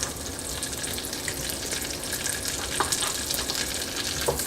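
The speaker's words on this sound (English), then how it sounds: "add our asparagus to the pan." Asparagus sizzles in a pan of melted butter and garlic, a dense continuous hiss of frying with faint crackles and pops throughout, steady and fairly close, no talking.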